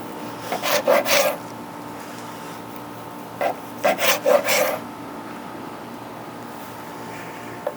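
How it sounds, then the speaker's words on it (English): Knife sawing through a dry direct-heat smoked brisket on a cutting board, two separate runs of rasping back-and-forth strokes, close and fairly loud with quiet pauses between. "Let's cut a few more slices"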